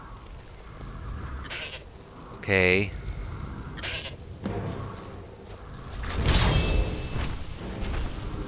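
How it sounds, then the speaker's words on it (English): A goat bleats in the Skyrim video game, one loud, wavering cry standing out from low ambient game sound, with a person talking briefly nearby and other scattered game noises following. "I need this goat back"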